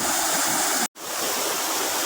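Waterfall at Tham Lek cave pouring steadily, a dense broadband rush of falling water heard close and loud, broken by a brief cut to silence before resuming.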